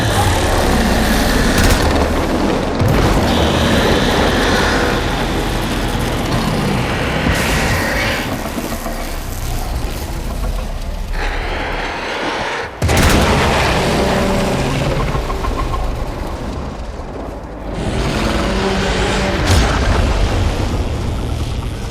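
Explosions and heavy weapon blasts in the Warframe video game, a dense, loud, continuous barrage of booming impacts and rumble with a few sharp cracks and brief drops in intensity.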